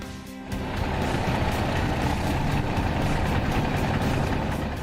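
A Class 8 truck engine idles steadily before a test drive, a loud, even diesel rumble with a faint rhythmic pulse that runs for nearly five seconds with no talk.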